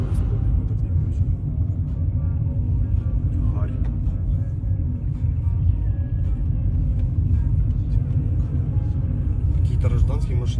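A car drives along a road in the Kherson region of Ukraine, making a steady low engine and road rumble that fills the whole stretch, with voices talking over it at times.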